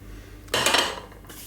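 A metal cake ring lifted off a chocolate cake resting on a cooling rack gives a short, close metallic clatter and scrape, lasting under a second in an otherwise quiet kitchen.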